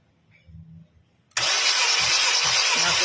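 A flooded Honda Civic FB 1.8 automatic is cranked to start, with faint low sounds at first, then a sudden loud, steady cranking roar that keeps a rhythmic low pulse and never catches.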